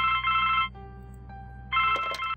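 Telephone in The Blackwell Legacy ringing with two bursts of a bright electronic trill separated by a short pause, loud and close, with a small clatter at the end of the second ring.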